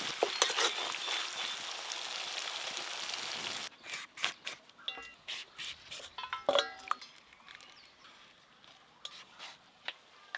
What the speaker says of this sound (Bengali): আজকে আমি মশলাটা কষবো ধীরে ধীরে